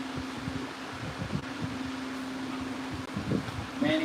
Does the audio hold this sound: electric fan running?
yes